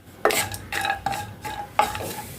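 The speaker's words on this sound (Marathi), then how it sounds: "हे जे ड्रायफ्रुट्स आहे ते ड्रायफ्रुट्स आपल्याला थोडेसे तळवून घ्यायचे आहे" Dry fruits frying in ghee in a kadhai for moong dal halwa, with a spoon stirring in repeated scraping strokes about every half second, and a soft sizzle underneath.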